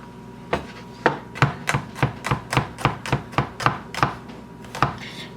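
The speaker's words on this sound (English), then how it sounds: "I'm just going to slice the garlic in here." A knife slices garlic on a cutting board in a series of about a dozen crisp, close taps at a quick, slightly irregular rhythm, with no talk.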